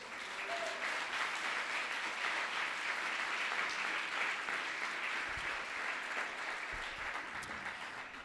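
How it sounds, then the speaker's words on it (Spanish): A church congregation applauds during a Spanish-language sermon with steady, sustained clapping from a crowd that fills the room evenly for about eight seconds at moderate volume. "Dele un aplauso al Señor."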